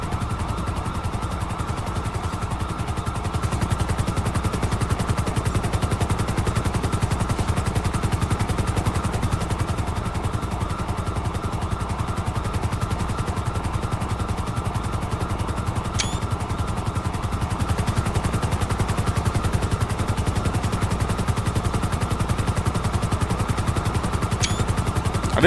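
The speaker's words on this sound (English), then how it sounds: "Alright, we got a chopper team coming in hot." A helicopter in the video game GTA 5 arriving, heard as a steady, loud rotor thump and engine drone that runs without a break throughout, with no voices.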